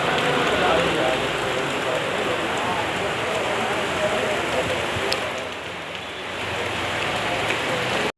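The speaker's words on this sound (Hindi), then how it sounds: "आज तो बारिश आ रहा है और मेरे ऊपर भी थोड़ा बारिश पड़ रहा है" Steady rain falls and patters on outdoor steps, a dense hiss that stays close and constant, with a brief dip in intensity partway through.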